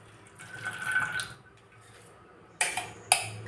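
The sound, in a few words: pouring water off homemade butter into a bowl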